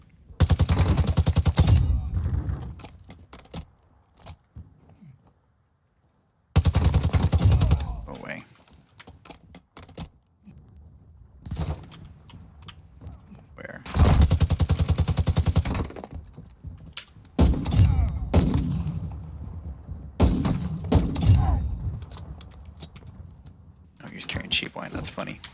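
TAQ-56 rifle fire in Call of Duty DMZ comes in several loud, rapid automatic bursts separated by brief pauses, with quieter clicks and handling noises between them.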